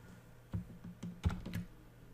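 Keys on a computer keyboard are tapped in a short, uneven burst of about six or seven clicks, close and fairly quiet, as code is entered during a programming lesson.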